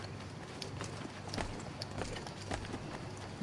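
Horses' hooves clip-clop on a street in Assassin's Creed III, a quiet irregular patter of hoofbeats in the background with no speech.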